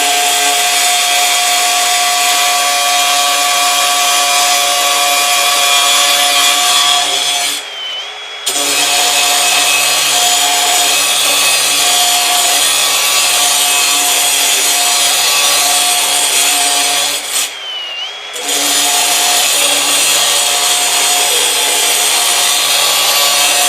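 Diamond metal-cutting wheel slicing through steel all thread on a construction job, a loud steady high-pitched grinding whine broken by two brief pauses, with no talking.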